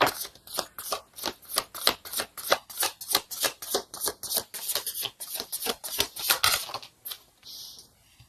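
Tarot cards being shuffled by hand in rapid, even riffling bursts, a steady rhythmic flutter of card edges up close that ends with a brief softer slide as a card is drawn.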